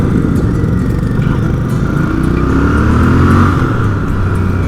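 Royal Enfield Bear 650 twin engine running loud and close while riding, a dense low rumble with a rising pitch as it accelerates, no voices.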